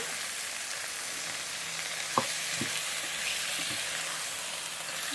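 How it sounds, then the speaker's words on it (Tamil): Onion and mutton rib bones sauté in a pan with a steady, even hiss of frying, broken by a few soft knocks and stirs of a spoon. "இதுக்குள்ள நல்லா வதக்கிட்டு வெங்காயம் எலும்போல போடுவோம்"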